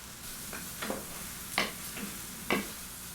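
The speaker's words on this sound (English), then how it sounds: "I like my eggs really soft, so I'm going to cook them just until they're just cooked" Scrambled eggs cooking softly in a non-stick pan, a faint steady sizzle under several distinct scrapes and stirring strokes from a utensil, spaced unevenly.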